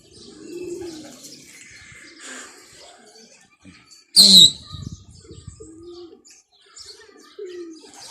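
Pigeons coo in soft, repeated phrases at a loft near a mosque rooftop, with a brief louder burst of flapping or chirping midway and no one speaking.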